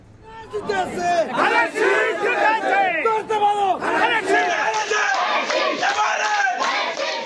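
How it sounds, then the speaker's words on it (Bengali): Crowd of party supporters celebrating an election victory, many voices chanting and shouting together in loud, rhythmic bursts that swell and continue without a break. "বিজয় উল্লাসে মাতোয়ারা কর্মী সমর্থক"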